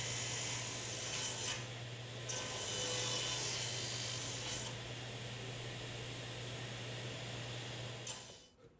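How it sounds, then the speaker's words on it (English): Steel chisel paring and scraping the bottoms of dados cut in wood for a sofa side table, a steady rasping rub that runs continuously for several seconds at close range with no talking. "Now with my chisel, I'll just clean up the bottom of the dados and get everything smooth and flat"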